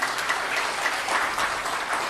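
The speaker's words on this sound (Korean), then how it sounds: "한 분 한 분 호명될 때마다 큰 박수 부탁드립니다." Steady applause from the audience at a Korean academic conference ceremony as honored guests are introduced, a dense, even wash of clapping that fills the room without a break.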